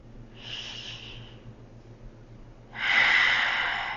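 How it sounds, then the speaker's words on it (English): A person takes deep, audible breaths during a yoga session: a soft, airy inhale lasting about a second, a pause, then a longer and louder breathy exhale close to the listener. "Take some big deep breaths. These can be in and out through your mouth or your nose."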